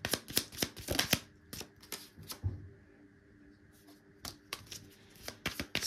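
Tarot cards shuffled for a reading, quick bursts of riffling and slapping card noise in close, sharp clusters at the start and again near the end, with a quieter gap between.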